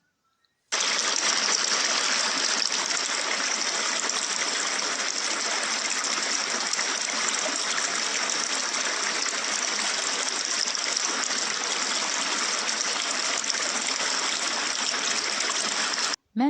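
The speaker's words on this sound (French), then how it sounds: "Maintenant, c'est le son de l'eau," Water flows and gurgles in a steady, loud, continuous rush that starts abruptly and cuts off at the end, with no voices.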